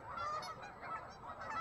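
Wild ducks call in a rapid run of nasal honks, several overlapping birds close by, loud and continuous across the moment.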